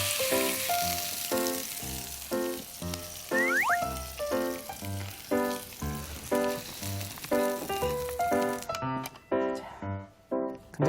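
Pork belly grills to a golden brown with a steady, hissing sizzle running underneath a loud, bouncy plucked-music backing, the hiss cutting out near the end.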